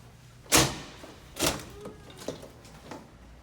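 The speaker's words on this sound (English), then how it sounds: "So we're gonna head through this quad door" A school door leading out to the quad is pushed open, giving a sharp thump followed by a second heavy clunk and a few lighter rattles and clicks as it swings. It sounds close, with quiet room tone in between.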